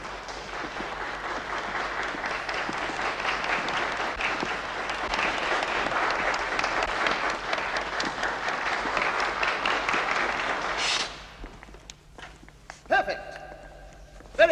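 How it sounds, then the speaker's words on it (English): A crowd claps with rigid fingers in a stiff roof-tile style of applause, a loud dense patter that builds for about ten seconds and then stops, followed by a few scattered sounds and a brief voice. "The roof tile applause."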